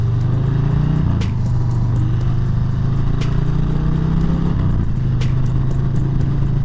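A Harley-Davidson Softail Street Bob rides on a spring day with a steady, loud low engine drone. The pitch rises gently, then dips at gear changes, with sharp wind or road clicks on top and no talking.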